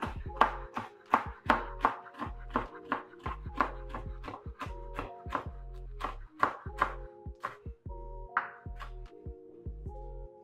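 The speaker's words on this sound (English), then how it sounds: "I'm gonna cut it to bits, or not bits, but bacon pieces." Cooked bacon chopped into pieces with a knife on a cutting board, a steady rhythm of close, distinct thunks, about two per second, with no talking.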